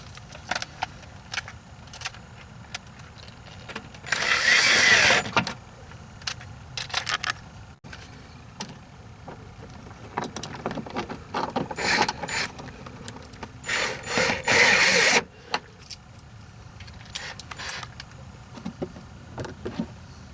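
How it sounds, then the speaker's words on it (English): Screws being fastened on a BMW 3 Series E90 fog light during replacement, with intermittent ratcheting clicks and mechanical rattles in two louder bursts amid quieter handling. "just line up everything and start putting the screws in"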